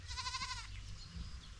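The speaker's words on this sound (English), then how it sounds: "Also my goats they are around here." A goat gives a wavering, quavering bleat close by in a home compound, followed by faint rustling and softer background noise.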